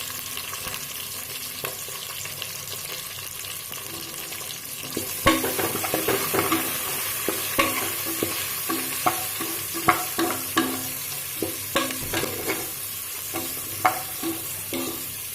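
Curry leaves frying in hot oil for a country chicken curry, a steady bright sizzle with repeated scraping stir strokes against the pan growing livelier midway through.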